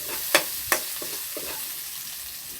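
A pan stir-fry with a low, steady sizzle, two sharp utensil clacks early on and then softer scraping strokes, heard up close with no talking.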